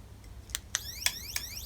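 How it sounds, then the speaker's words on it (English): A Senke X6 motorcycle alarm with its loudspeaker removed sounds a few faint, sharp electronic chirps with sweeping tones in an irregular rhythm, thin and quiet. "That's the alarm on, obviously with the loudspeaker out of it."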